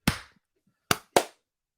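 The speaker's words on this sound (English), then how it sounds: "So here's edit point clap number 2" Sharp hand claps in a quiet room, marking an edit point while recording a podcast: one crisp clap, a short silence, then two more in quick succession, each close and loud with a brief decay.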